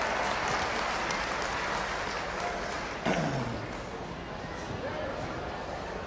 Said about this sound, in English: Let's have another nice round of applause for Abigail.